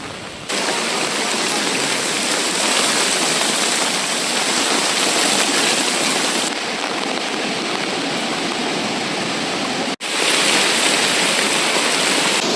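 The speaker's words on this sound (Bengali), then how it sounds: "প্রচন্ড ঝড় শুরু হয়েছে আসলে।" A strong cyclone batters the sea at Saint Martin's Island: a loud, steady roar of wind and driving rain fills the whole stretch with dense noise, broken by a brief dropout near the end.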